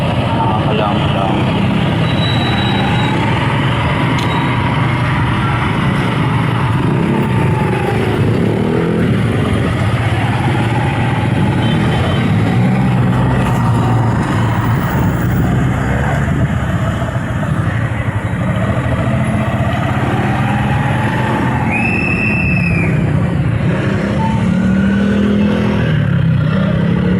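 Heavy road traffic, a dense, continuous roar of engines idling and revving nearby, with occasional higher whines and horn-like tones above the steady rumble, loud throughout.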